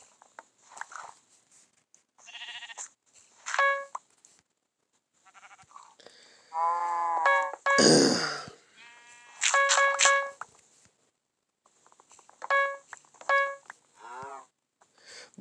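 Sheep in Minecraft bleat repeatedly in short, wavering calls, several in quick succession and spaced across the stretch, fairly close, with a burst of a louder scuffling sound in the middle and no talking.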